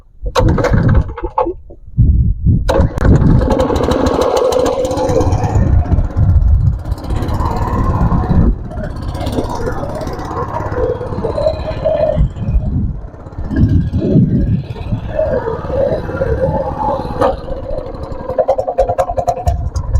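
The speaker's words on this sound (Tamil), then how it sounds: "இப்போ இந்த இன்ஜினை ஸ்டார்ட் பண்ணி நம்ம டிரைவ் பண்ணி போவோம்" A small boat engine on a river sputters and catches, then runs loudly and steadily up close, its rough drone rising and falling with a few clunks along the way.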